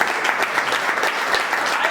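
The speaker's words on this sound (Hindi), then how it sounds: "मेरे पास उनके लिए भी जोरदार ताली।" An audience at a field leaders' meeting bursts into loud, sustained applause, dense continuous clapping from a crowd filling the whole moment.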